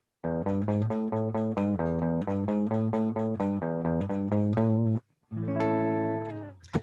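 A distorted electric guitar plays a quick riff of short, evenly spaced picked notes, followed by a brief pause and a sustained ringing chord.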